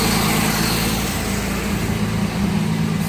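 A turbocharged Cadillac Brougham idles with a steady, even exhaust drone, fairly loud and constant throughout with a low rumble underneath.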